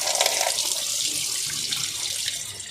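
Tap water runs steadily into a sink while about a kilogram of raw pork belly is rinsed by hand, a close, continuous splashing hiss with small shifts as the meat moves under the stream, and no voices.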